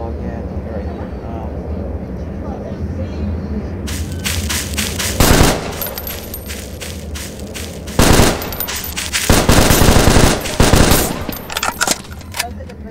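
Rail coil weapon firing in a shooter video game, heavy bursts of electric gunfire arriving in several loud blasts over a steady background of game noise and engine hum, with players talking over it.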